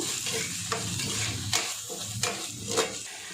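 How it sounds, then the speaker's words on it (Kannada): Sweet corn masala with chilli powder fries in a pan while a spoon stirs it close up, giving a soft continuous sizzle broken by four or five sharp scraping strokes against the pan. "ಈಗ ಇದನ್ನು ಸ್ವಲ್ಪ ಹುರಿಬೇಕು"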